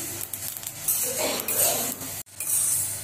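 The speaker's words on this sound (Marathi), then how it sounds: "बारीक गॅसवरच भाजायचं" Sesame seeds roasting in a pan on a low flame, stirred with bursts of rustling, scraping and faint sizzle, close by, with a brief gap partway through.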